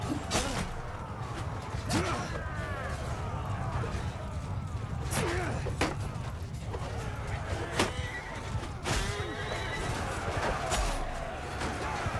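Horses neighing during a Mount & Blade II Bannerlord battle, several whinnies spread across the scene amid clattering combat impacts and mechanical noise, with a voice talking at times.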